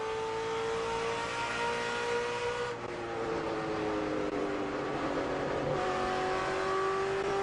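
IROC stock cars racing at Richmond on last year's Nextel Cup tires, a loud sustained engine drone from a pack of cars with pitch sweeping as they pass and shift.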